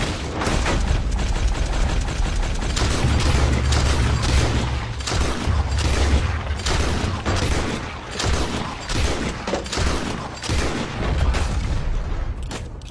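Rapid Deadeye gunfire from a Red Dead video game, loud repeated gunshots firing in quick succession with booming reports, continuous for the whole stretch with almost no talk.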